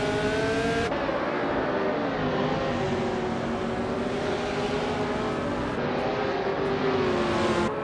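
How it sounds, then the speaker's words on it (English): Engines of AI-driven race cars in a racing video game whine loudly and continuously, with pitch climbing and falling as several cars rev and zoom past one another, layered with no talk. "get ready to see these cars zoom past each other like they're racing against the clock itself"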